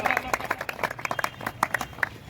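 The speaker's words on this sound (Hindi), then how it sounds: "एक बार आप लोग तालियों से इसमें हामी भर दीजिए" Applause from an audience at a kabaddi league closing ceremony, a run of sharp, uneven claps that is loud and close and lasts about two seconds.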